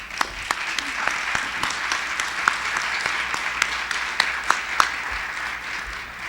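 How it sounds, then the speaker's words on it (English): An audience at a welcome gathering applauds steadily, with sharp individual claps standing out over a continuous spread of hand-clapping from the room. "give him a round of applause"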